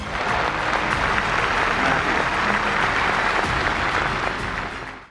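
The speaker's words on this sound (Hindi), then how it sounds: "जिससे सभागार तालियों से गूंज उठा।" An auditorium crowd at an AI summit in Delhi bursts into loud, dense applause that holds evenly for about five seconds before cutting off abruptly.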